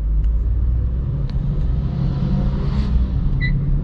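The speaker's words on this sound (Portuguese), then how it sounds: "O som desse carro aqui." Peugeot 208 running on ethanol in city driving, its engine a steady low rumble heard from inside the cabin, continuous and moderately loud with no talk.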